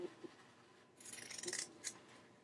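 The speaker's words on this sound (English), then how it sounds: "slide your scissors under there and kind of tilt them up a little bit, and you can cut that right up along that stitch line" Scissors trim the seam allowance on denim close to the stitching line, making soft, close crunching snips and rasping cuts through the thick fabric in short bursts, quiet and with no talking.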